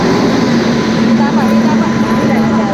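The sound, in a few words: train arriving at station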